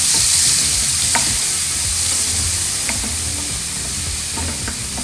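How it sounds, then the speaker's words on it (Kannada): Crushed onions with fennel sizzle loudly in hot oil for an egg curry masala, a dense, continuous frying hiss broken by a few sharp clicks of stirring against the pan. "ಸೊ ಈರುಳ್ಳಿ ಕೆಂಪಗಾಗೋ ತನಕ ಇದನ್ನು ಫ್ರೈ ಮಾಡ್ಕೊಳ್ಳೋಣ."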